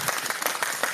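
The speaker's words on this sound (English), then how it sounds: "I also love this feature of animation of clapping." A short burst of dense, lively clapping used as an animation sound effect, like an audience applauding on stage, loud and close and filling the whole second without a break.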